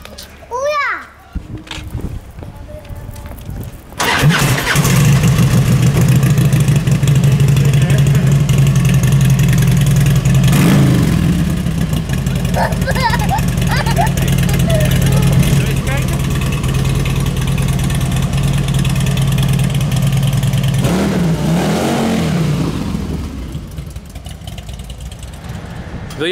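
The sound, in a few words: motorcycle engine starting and revving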